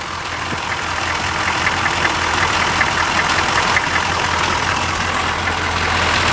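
An engine turning over and running steadily after cranking, a continuous loud mechanical rumble with faint knocking texture and no talk.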